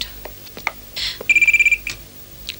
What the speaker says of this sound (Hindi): कलकत्ता से तुम्हारे लिए कोई फोन